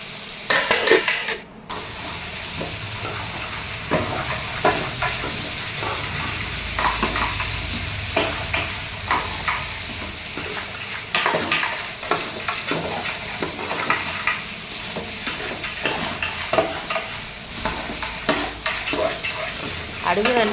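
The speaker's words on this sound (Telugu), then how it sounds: "అడుగులు అంటుకోకుండా తిప్పుతూ ఉండాలి" Vegetable biryani stirred in a pot on the stove so it won't stick, a continuous sizzling bubble with repeated scraping and clinking strokes of the spoon against the pot bottom throughout.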